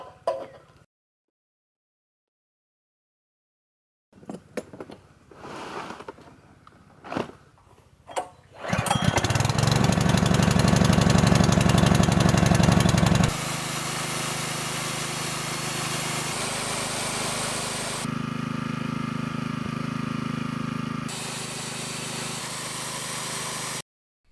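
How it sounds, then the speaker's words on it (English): A small generator on an off-grid homestead starts up with a few sputters, then runs at a loud, steady engine drone that shifts pitch as load from a drill boring holes in steel gate hinges comes and goes. "the next job was to fire up the generator so he could use the drill to put the holes in the metal"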